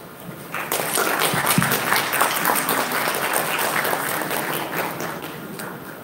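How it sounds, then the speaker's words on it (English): A crowd at the Suzuki Gixxer SF250 and SF155 launch event breaks into sustained applause, dense clapping rising quickly and continuing steadily for several seconds. "Let's have a round of applause to that."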